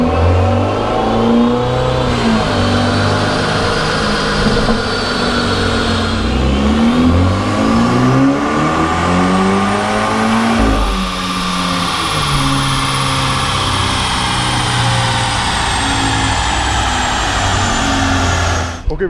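A car engine revs hard on an inertia dyno during stock power runs, rising and sweeping up in pitch through repeated loud acceleration pulls with a steady mechanical roar and no voices.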